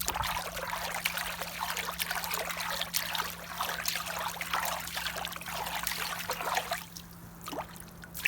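Pool water trickles steadily in a backyard with a brick-edged pool, a continuous close splashing dribble with a low steady hum underneath, easing briefly near the end before resuming.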